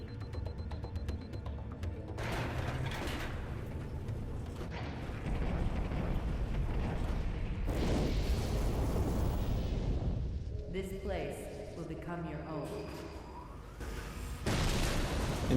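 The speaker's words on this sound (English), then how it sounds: "we finally board the elevator, drop down, there's a huge explosion and fire from above" Huge explosion and fire erupting from above as an elevator drops in the Halo 3 campaign, heavy rumbling booms and mechanical creaks rolling on over a long stretch, with quieter and louder surges.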